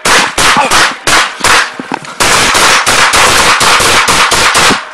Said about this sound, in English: 5-7 shots fired, subject down.